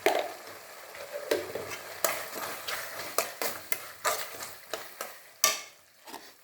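Gobi Manchurian sauce stirred in a frying pan, with repeated sharp spoon scrapes and clacks in an uneven rhythm over a low sizzle, close and clear, no voices.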